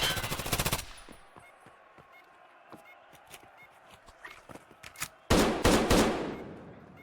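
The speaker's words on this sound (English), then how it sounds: "Shotgun rings." Shotgun blasts in a competitive arena video game: a heavy burst at the start, scattered lighter shots and clicks in between, then another loud close volley near the end.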